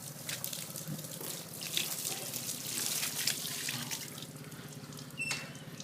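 Running water rinsing a car body after clay-bar paint cleaning, a soft steady splash and trickle with small drips, fairly quiet and continuous, with no talk.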